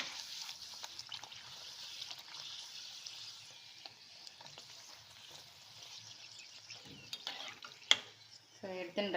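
Puris fry in hot oil, one at a time, a quiet, steady crackling bubble with faint trickling, then a few louder clattering knocks near the end.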